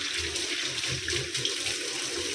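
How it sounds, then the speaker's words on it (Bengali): Tap water runs steadily into a kitchen sink while vegetables are washed, a constant close splashing and hissing with no talk. "সবজিটা ধুচ্ছি,"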